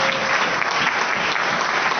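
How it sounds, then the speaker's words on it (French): Congregation at a church sermon breaking into sustained applause, dense and steady throughout, fairly loud and close with no voices on top. "Applaudis."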